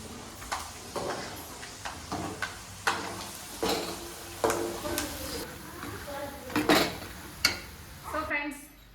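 Peanuts frying for hot poha (avalakki) in a home kitchen, with a soft steady sizzle punctuated by repeated clinks and scrapes of a stirring spoon against the pan, close by.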